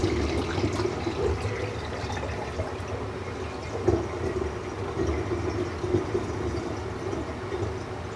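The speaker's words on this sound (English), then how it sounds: "So now we're going to take our 4 cups of filtered water with the yeast, and I'm going to dump that on in." Four cups of filtered water carrying yeast poured into a jug for homemade ginger beer, a steady close splashing and gurgling rush of liquid that runs continuously and evenly with no talk over it.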